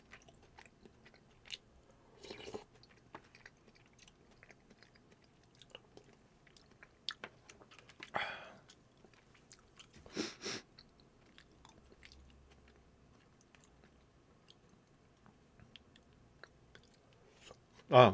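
Delivered Korean pork belly being chewed close to the microphone, with scattered quiet wet chews and a few louder crunchy bites spread over a mostly hushed stretch.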